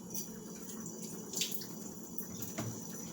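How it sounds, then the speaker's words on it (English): Hands being washed under a running kitchen tap, a steady faint stream of water with a few small splashes, no talking. "I'm going to wash my hands."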